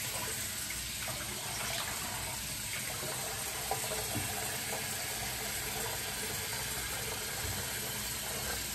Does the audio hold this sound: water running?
yes